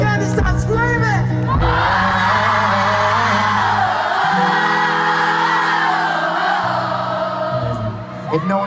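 A huge arena crowd at an Ed Sheeran concert screams and cheers continuously, loud and sustained, with a singer's held notes ringing over the roar at the start and end.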